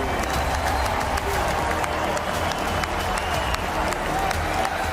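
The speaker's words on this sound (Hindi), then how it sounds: "ट्रंप के इस ऐलान के साथ ही स्टेडियम शोर, तालियों और ट्रंप के नारों से गूंज उठा।" Stadium crowd at a Republican Party event roaring with applause and cheering for Trump, a continuous loud wash of clapping, shouts and chanting with no break.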